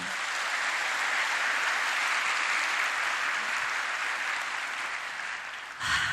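A church congregation at a Korean prayer gathering claps together in praise, a dense, even roar of applause that holds steady for several seconds before fading, with a brief thump at the end.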